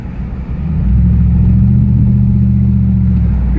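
A car with a 5.7 HEMI engine accelerates hard, its deep low engine roar rising within the first second and then holding steady and loud for the rest of the stretch, with no talk over it.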